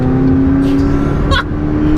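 A McLaren 675LT's engine drones steadily from inside the cabin while driving at an even pace, a loud, constant low hum with a few faint interior noises.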